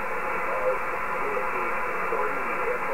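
Steady hiss and crackle of static on an HF amateur radio band, received through a 100-watt Kenwood transceiver, continuous and moderately loud with no voice over it.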